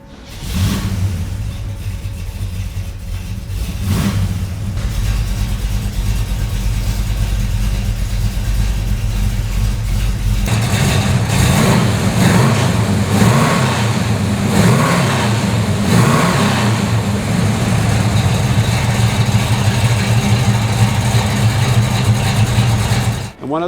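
A 1979 Pontiac Firebird Trans Am with the WS6 package cranks with a starter whir, then its V8 catches and settles into a loud, deep, steady idle with a lumpy rumble.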